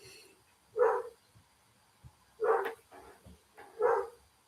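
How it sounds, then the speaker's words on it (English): Three separate barks from a neighbour's dog next door, evenly spaced and moderately distant, with quiet pauses between them and no talking. "it's the dog next door's barking"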